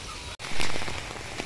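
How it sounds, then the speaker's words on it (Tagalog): Dense rain hisses steadily, with a brief dropout and then a louder, closer wash of falling water. "Grabe yung ulan."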